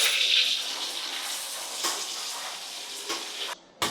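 Blended chili hits hot frying oil in a pan where sliced tomato is already cooking, setting off a loud, steady sizzle and hiss with brief sharp crackles.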